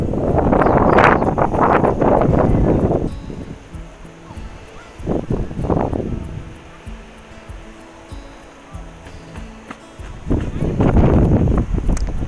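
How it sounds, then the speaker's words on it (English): Strong, cold gusts of wind on a hiking trail buffet the microphone in loud, rumbling bursts that rise and fall, with calmer stretches in between. "all of a sudden it got really, really windy and cold."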